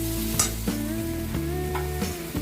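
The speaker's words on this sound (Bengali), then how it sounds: "এবার এগুলো একটু ভালো করে তেলের মধ্যে নাড়িয়ে নেব।" Vegetables frying in oil with panch phoron and dried chilli, stirred with a few distinct scraping strokes over a steady close sizzle, with a low sustained tonal hum underneath.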